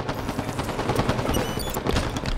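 Rapid automatic gunfire in the Halo 5 video game crackles in dense, fast bursts from start to end, loud and continuous, with no voices over it.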